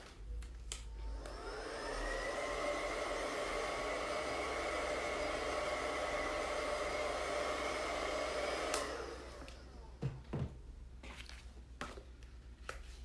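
Hair dryer blows on chalk paste for a craft demo, a steady close whoosh held for about seven seconds, then cut off, with a few soft handling taps and clicks around it.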